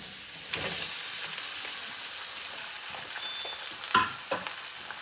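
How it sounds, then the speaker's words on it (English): Potatoes for home fries searing in a hot pan just above medium heat, giving a steady close sizzle with a couple of brief stirring scrapes. "now I want to sear the potatoes"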